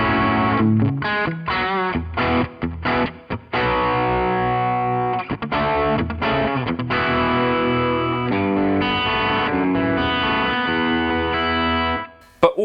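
Electric guitar played through a Boss Katana amp's Distortion Plus effect with some high end cut by EQ: a steady, thick distorted lead line with sustained notes and short breaks, loud and continuous, no talking.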